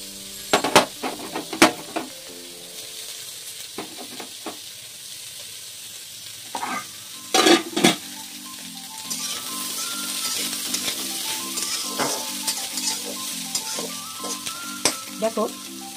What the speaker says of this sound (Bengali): একটু নাড়াচাড়া করবো, একটু হবে, একটু ভাজা ভাজা হবে এবং সিদ্ধও হবে।